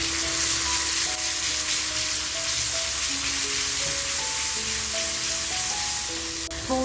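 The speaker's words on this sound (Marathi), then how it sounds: "बघा आलं आणि लसूण जी घेतली आहे ती अगोदर आपण तेलात टाकून देऊया" Ginger and garlic sizzle steadily in hot oil for a Kolhapuri mutton dish, a continuous crackling hiss with soft background music underneath.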